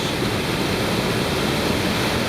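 A river roars through a gorge in spring during light rain, a steady, loud broadband rush of water that holds unbroken and close throughout, with no voices.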